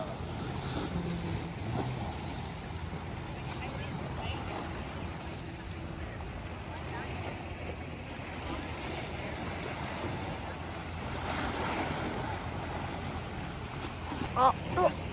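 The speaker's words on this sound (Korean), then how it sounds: "그래서 파도 치는 것 같아." Ocean surf washing against the shore at Whytecliff Park near Horseshoe Bay, Vancouver, churned up by a passing boat: a steady, broad wash of water with wind rumble, swelling slightly near the end.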